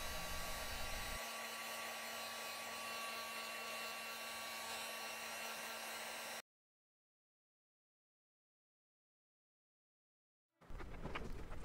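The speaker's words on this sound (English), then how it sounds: "A heat gun or a hairdryer is a great tool to speed up your painting." A hair dryer or heat gun drying paint blows with a steady whooshing roar and a faint motor whine, cuts off into silence, then starts up again.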